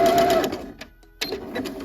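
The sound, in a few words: sewing machine back stitching fabric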